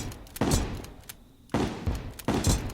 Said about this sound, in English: Classic star cannon moment.